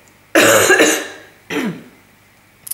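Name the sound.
cough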